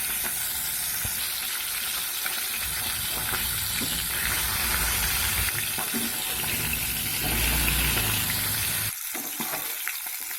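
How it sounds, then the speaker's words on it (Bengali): Pomfret fish fries in hot mustard oil in a home kitchen, giving a steady, close broadband sizzle that runs unbroken for about nine seconds before dropping briefly near the end. "মাছটা ভাজা হচ্ছে"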